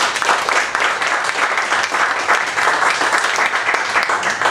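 An audience claps for speaker Blaž Grmek at a trail and ultra running event, a steady, fairly loud wave of applause holding for several seconds.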